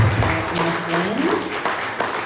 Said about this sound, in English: So we can give a big round of applause to Anthony Edgar and